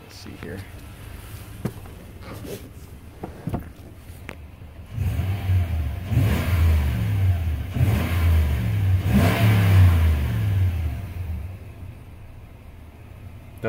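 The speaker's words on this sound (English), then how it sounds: "I'll go rev it up a little bit and show you under the hood" A 2007 Toyota Tundra engine is revved under the hood, rising from quiet idle into a loud, sustained throaty roar with a couple of surging pulls before settling back down; a few clicks and faint sounds come first.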